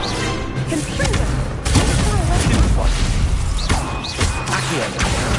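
Confringo blasting spell exploding in Hogwarts Legacy combat, heavy thuds and booming blasts amid a chaotic mix of magical impacts, with a voice calling out spells.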